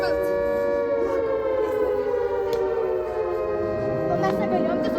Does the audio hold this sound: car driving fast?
no